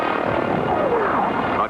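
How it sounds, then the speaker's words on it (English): A Boeing AH-64 Apache attack helicopter drones loudly and steadily, its engine and rotor hum staying constant before cutting off abruptly. "AH-64 Advanced Attack Helicopter is a weapon system that will do that job."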